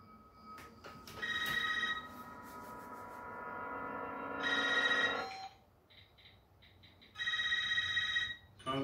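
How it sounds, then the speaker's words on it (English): Landline telephone ringing in a 2022 Scream trailer, repeated electronic ring bursts separated by pauses, fairly loud with a low hum beneath and no speech. "How you know my landline's ringing?"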